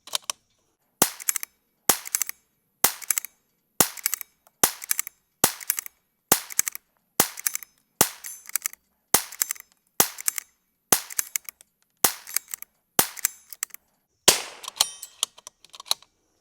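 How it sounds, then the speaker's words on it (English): Rim-X rimfire conversion firing rounds one at a time, around fifteen sharp shots at a steady rhythm roughly a second apart, each followed by quieter clicks of handling. "It did it. 120 rounds. with one malfunction."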